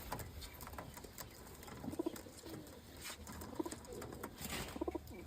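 Domestic pigeons for sale in Naihati, India, giving soft low cooing calls with some fluttering and shuffling, faint and close in a quiet space.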